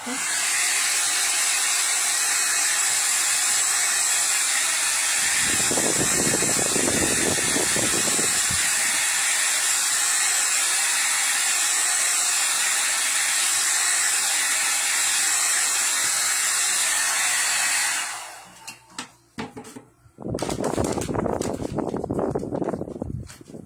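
A hair dryer blows steadily as a loud, continuous broadband whoosh for most of the clip, then cuts off near the end; low voices murmur under it at times and again after it stops.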